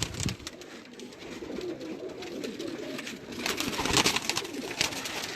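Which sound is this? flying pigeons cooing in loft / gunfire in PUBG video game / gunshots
flying pigeons cooing in loft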